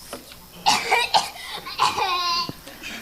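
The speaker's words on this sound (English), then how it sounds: "Another cough came from Humbug." A voice performs a character's coughs during a children's story telling, giving several short, rough bursts spaced across a few seconds, close and fairly loud, with no words spoken.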